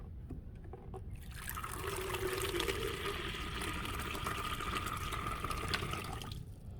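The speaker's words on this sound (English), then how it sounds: "I should pour it in here first so the water settles" Water is poured into a container on a lab table as a steady, quiet trickle that starts after a second, runs for about five seconds and then stops, with no talking.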